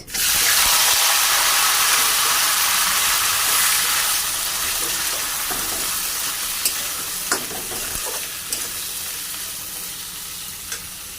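Two medium onions frying in oil with garlic and ginger already browned, a loud close sizzle that begins abruptly and settles into a steady hiss, with a few sharp clicks of a spatula stirring near the end.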